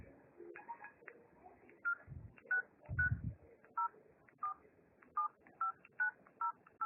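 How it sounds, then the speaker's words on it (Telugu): Keypad tones from a Jio phone as a number is dialed, a series of short, evenly spaced beeps, with a couple of low thumps in between. "చూడండి, ఫోన్ చేస్తున్నాను."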